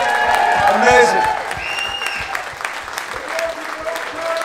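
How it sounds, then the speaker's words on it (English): Theatre audience applauding a swing band at the close of a show, a steady wash of clapping that swells early then settles, with a voice briefly speaking over it and some tonal sound in the background. "can we get a massive round of applause for the band?"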